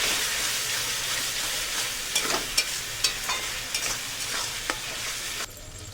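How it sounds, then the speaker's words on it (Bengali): Spice paste of turmeric, red chilli powder, ginger paste, salt and a little water stir-fried in a pan for chicken biryani: a steady sizzle with scattered scraping clicks of a spatula, no voices, ending in a quieter hiss. "সব কিছু দিয়ে ভালো করে মশলাটা কষে নেব"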